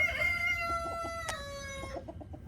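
A rooster crows loudly nearby while hens cluck in short, repeated bursts underneath, close and clear with no talking.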